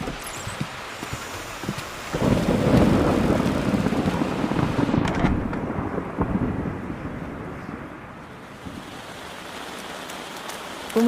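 Heavy rain and gusting wind roar steadily, swelling louder for a few seconds with a deep rumble of thunder before easing back to a constant downpour.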